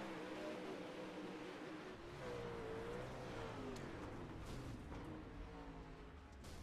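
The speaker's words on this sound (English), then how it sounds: "just hear how much that car is revving" A sprint car's engine revs hard during a race replay after a crash into the wall, a loud sustained roar with rising and falling pitch sweeps and no talk over it.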